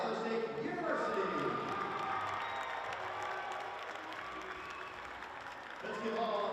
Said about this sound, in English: Let's give all of our teams a round of applause.